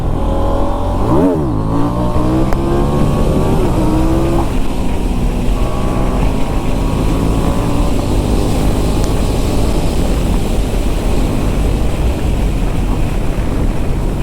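Superbike engine, a Kawasaki Z900 or KTM 890 Duke R, revving hard for a wheelie: a loud close roar sweeps up in pitch, drops and climbs again, then holds a steady rough drone with wind noise.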